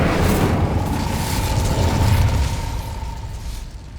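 An Incendio fire spell is cast in Hogwarts Legacy, producing a loud burst of roaring flame with rumbling low crackle that slowly fades over a few seconds.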